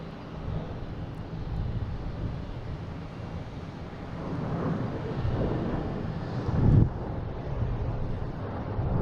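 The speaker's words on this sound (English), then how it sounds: "It's coming in for final." An airplane on final approach to land at Boston Logan International Airport, a distant steady roar under heavy wind noise, swelling slightly toward the end.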